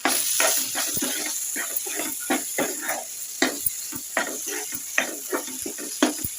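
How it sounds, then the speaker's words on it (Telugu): Cauliflower curry stirred in a pan after curry masala and coriander powder go in, a spoon scraping in repeated short clacks over a steady low sizzle, close and fairly loud. "కొంచెం కర్రీ మసాలా కూడా వేసుకుందాం మొత్తం తిప్పుకుందాం"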